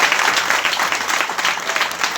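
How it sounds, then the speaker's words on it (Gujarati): An audience claps steadily and loudly throughout at a religious gathering, a dense continuous round of applause with no talk over it. "તાળી પાડો"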